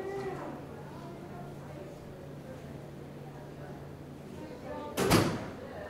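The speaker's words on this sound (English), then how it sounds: "Close that door." A door closed in a conference meeting room, heard as one sharp thud near the end after several seconds of quiet room ambience.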